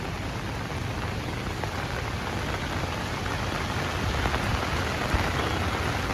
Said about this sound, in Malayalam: ഇപ്പോൾ ഇതാ മഴ പെയ്തപ്പോൾ ഈ റോട്ടിലോട്ട് നല്ലപോലെ വെള്ളമാവുന്നുണ്ടേ.